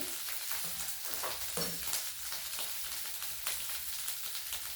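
Ground ginger paste hits hot oil in a frying pan, giving a dense, steady sizzle with crackling bursts, close and continuous throughout.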